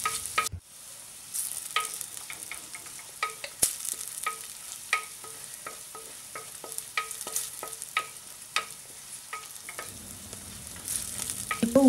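Onions sauté in a pan for Kerala-style sardine chilli curry, with a soft steady sizzle under repeated scraping and clinking strokes of a spoon stirring at an irregular pace, close by.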